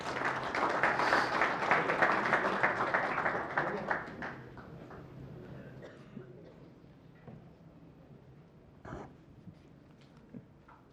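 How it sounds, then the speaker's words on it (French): Applause at an official opening ceremony, loud and dense crowd clapping at first, then thinning to scattered claps that fade into room noise, with voices murmuring beneath. "Mesdames et messieurs, sous vos applaudissements, le mot de M. Omar Gera"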